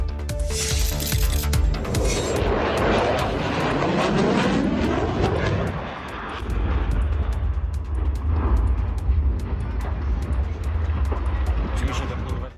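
An F-16 fighter jet roars loudly during an air show rehearsal in Radom, Poland, its broad jet rumble rising and then holding steady throughout.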